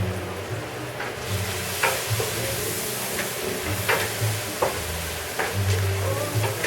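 Spices with smoked paprika sauté in a pan for shredded beef machaca, a steady hissing sizzle with occasional scraping stirs and low rumbling underneath, heard close with no voices.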